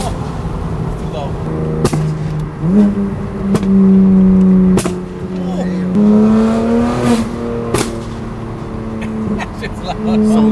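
A stock car's engine and exhaust roar loudly close by, rising and falling through revs and gear changes, with people talking over it throughout.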